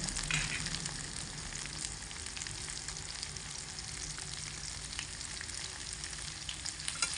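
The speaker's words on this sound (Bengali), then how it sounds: "গরম তেলের মধ্যে কেটে রাখা আলুগুলোকে দিয়ে দেব" Cut potatoes fry in hot mustard oil in a pan, a close, steady crackling sizzle that goes on without a break and with no voices.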